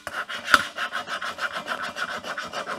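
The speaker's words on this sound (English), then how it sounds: "I've got a scraper. It's made out of a triangular file." A homemade scraper ground from a triangular file scrapes heated paint off metal in a shop, giving a steady run of rhythmic rasping strokes about three per second, close and clear, with one sharper scrape early on.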